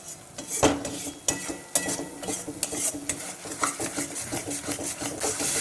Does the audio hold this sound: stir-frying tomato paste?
yes